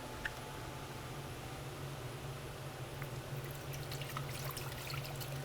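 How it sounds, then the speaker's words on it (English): Soft, steady trickle of water being poured off the top layer of a clay bucket, a continuous gentle splashing with faint drips, quiet and close, no voices. "I'm going to pour off a little bit of the top layer"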